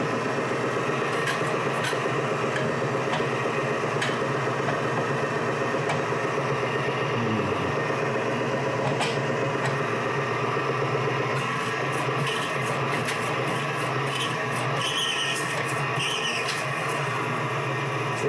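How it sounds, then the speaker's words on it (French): A motor likened to a Zamboni engine runs in a kitchen while dried meat is being prepared. It gives a steady, loud mechanical hum and drone throughout, with a few light clicks near the end. "C'est un moteur de Zamboni,"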